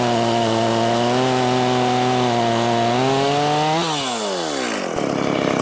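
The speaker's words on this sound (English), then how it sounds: "So we're starting with the Stihl MS170, my smallest saw, with the hypo chain first." A Stihl MS170 chainsaw fitted with a hypo chain cuts through wood, its engine droning loud and steady at close range, then rising in pitch near the end as the bar clears the log.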